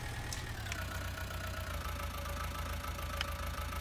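A tractor engine idles in Farming Simulator 19, a steady low mechanical rumble with a faint whine holding an even level, with a few light clicks over it and no talk.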